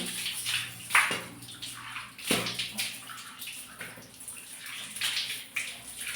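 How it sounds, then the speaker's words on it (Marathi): Running water rinses a freshly cleaned tap and bathroom basin after a home remedy for white hard-water stains, with splashing and sloshing bursts of varying loudness close by. "आता पाच मिनटं झालेली आहेत तर धुवून घेते"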